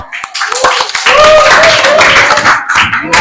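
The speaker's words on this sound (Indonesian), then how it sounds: "kita kasih aplaus dulu" A classroom group claps together in a short burst of loud, close applause with voices mixed in.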